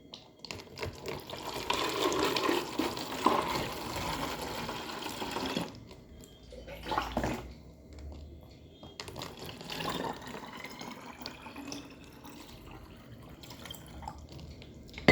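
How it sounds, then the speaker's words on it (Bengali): Water runs into a bucket from a tap. The pour is loud and hissing, then breaks off and comes back as a rising fill with splashes and drips, close by and with no talk. "বালতিও কালকে মেজে রেখেছি, টাইম পাইনি ভরার। এই যে এখন আজকে ভরতে এসেছি।"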